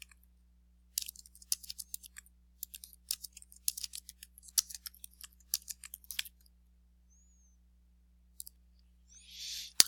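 A computer mouse clicks sharply and repeatedly, in close irregular bursts, then goes quiet, with a brief soft rustle at the end.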